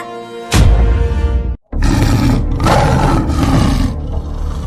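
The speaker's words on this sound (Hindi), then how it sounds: "ये तो शेर की दहाड़ने की आवाज है।" A cartoon lion gives a loud, close roar that breaks off briefly, then continues in long rough surges, with no talking over it.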